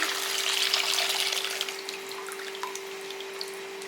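Dissolved tamarind water is poured into a cooking pan for a Tamil tamarind curry, making a soft, close, trickling splash that fades slightly over a steady low electrical hum.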